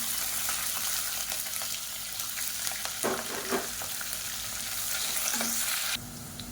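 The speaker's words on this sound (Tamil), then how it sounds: "இப்போ வெங்காயம் நல்லா கோல்டு கலரில் வர ஆரம்பிச்சிருச்சு" Sliced onions, green chillies and curry leaves frying in oil as the onions turn golden for a South Indian vegetarian kuzhambu, a dense close sizzle with spatula scrapes and stirring bursts that drops in level near the end, with no talking.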